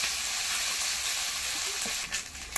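Small mourala fish fry in a pan of hot oil, giving a continuous, even hiss close by, with a few faint clicks and a brief scrape near the end.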